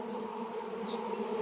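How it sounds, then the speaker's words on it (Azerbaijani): A swarm of honeybees that had left to swarm, now being returned to their original hive box, fills the air with a steady, dense buzzing hum, close and continuous without any talk. "Artıq arılar içəri girməyə başlayırlar."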